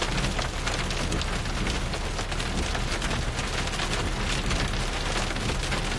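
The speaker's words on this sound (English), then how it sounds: "Whoa, that's hail. You hear it?" Hard, continuous rattle of hailstones hammering a car during a thunderstorm near Stockton, California, heavy and even throughout, with no one speaking.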